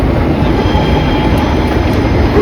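A train rumbles steadily past inside a London or Amsterdam railway station, with loud continuous low rolling noise and a faint high whine throughout, and no talk.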